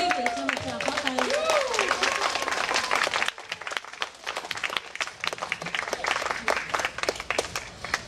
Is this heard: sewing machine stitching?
no